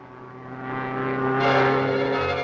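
A propeller airplane flies overhead, its engine drone steady and growing louder as it nears, then holding strong at the end of the pass.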